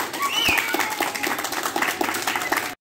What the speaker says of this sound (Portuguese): Salve de palmas, Jardim Peri!